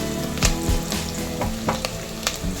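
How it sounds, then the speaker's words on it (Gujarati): Onion gravy hits hot seasoned oil in a pan for chana paneer bhurji, giving a loud, steady sizzle with a few stirring clinks and scrapes throughout. "આપણે આમાં નાખી દઈશું કાંદાની બનાવેલી ગ્રેવી"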